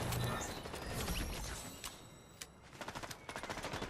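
Shotguns fire in a video game with rapid, sharp cracking blasts, scattered early and then a quick rhythmic volley of repeated shots toward the end, fairly faint overall.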